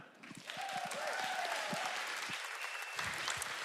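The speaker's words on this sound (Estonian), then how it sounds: "Teeme suur aplausi Ragnele." Congregation at an Easter service applauds the gospel choir director, a full, sustained round of clapping from many people filling the hall at steady volume for several seconds.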